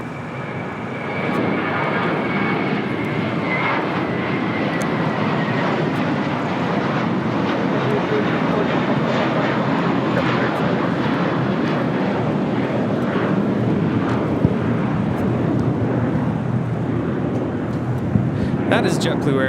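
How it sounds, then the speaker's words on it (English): A JetBlue Airbus A321 takes off at LAX, its engines roaring in a broad, sustained rumble with wind buffeting the microphone, while a person talks over the noise throughout. "That is JetBlue Airways 324 taking off to JFK on an A321."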